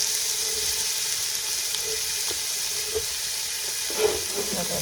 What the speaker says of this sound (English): I will brown these onions into golden.